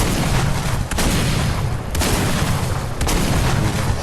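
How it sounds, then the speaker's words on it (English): Repeated heavy blasts from grenades going off in a shooter video game, a dense, loud barrage of booms and gunfire-like bursts filling the whole stretch, with sharp peaks near one and three seconds. "Shooting some grenades actually does work."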